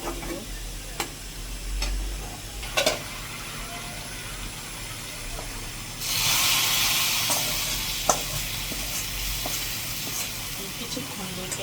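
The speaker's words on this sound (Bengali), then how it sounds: "ফোড়নটা রেডি হয়ে গেছে, উপরে আমি ফোড়নটাকে দিয়ে দেবো।" A hot spice tempering poured over chicken curry, a sudden loud hissing sizzle that swells midway and holds steady, after a few quieter clinks and taps of utensils.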